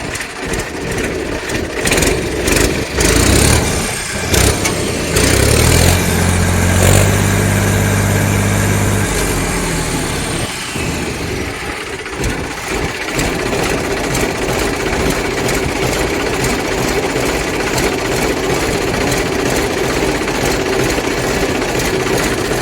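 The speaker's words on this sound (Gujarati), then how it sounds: "engine powerful cell start original અવાજ" A Mahindra B 295 tractor engine runs steadily and loudly throughout, with a rough, throbbing mechanical rumble and some clattering early on, no voices.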